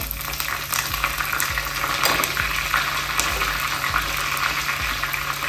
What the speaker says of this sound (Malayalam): ഇനി ഇതിനകത്തോട്ട് 2 തണ്ട് കറിവേപ്പില ഇട്ട് കൊടുത്തേ